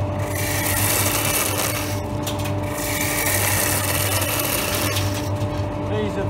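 A gouge takes a fine cut on a hand-turned wooden spindle spinning on the lathe, giving a steady close hiss and rasp over the motor's hum, with brief shifts in texture as the tool moves.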